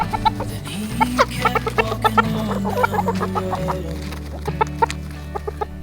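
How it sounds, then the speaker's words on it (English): Several backyard chickens cluck nearby in quick, uneven runs of short clucks, overlapping one another at moderate loudness with no talk over them. "Oh, chickens!"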